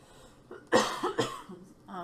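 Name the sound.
cough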